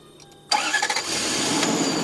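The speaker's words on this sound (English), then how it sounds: "Start the vehicle with the good battery first." A car engine cranks briefly and catches, then settles into a steady idle, close and fairly loud, as the vehicle with the good battery is started before a jump start.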